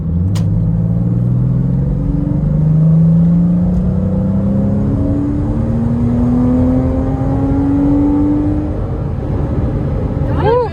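A 2009 Porsche Boxster S accelerates hard while overtaking, its engine note climbing in pitch through the revs with a loud, close, sustained rumble and a gear change near the end.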